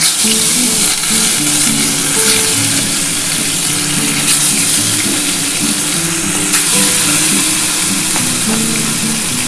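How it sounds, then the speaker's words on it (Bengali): Loud, continuous sizzling and crackling of tilapia fish frying in hot oil, close up, with occasional sharper pops throughout. "আমার তেলটা কিন্তু গরম হয়ে গেছে এবার আমি মাছটা দিয়ে দিলাম"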